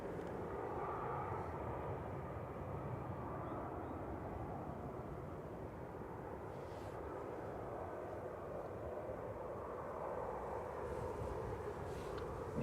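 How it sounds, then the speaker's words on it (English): A TUI Boeing 737-800 airliner arriving from Heraklion at Manchester Airport gives off a distant, steady low jet rumble that holds at an even, muted level throughout, with no talk. "TUI coming in from Heraklion. GTUKS 737-800"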